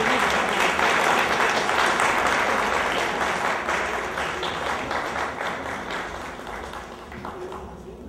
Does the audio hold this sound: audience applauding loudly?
yes